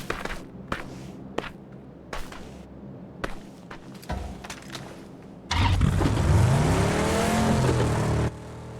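In-game vehicle in PUBG's Miramar desert map drives past: scattered footsteps and small clicks give way to a loud, steady engine roar with rising and falling pitch as it passes close by, then cutting off abruptly.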